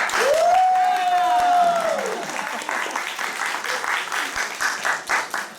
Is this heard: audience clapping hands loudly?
yes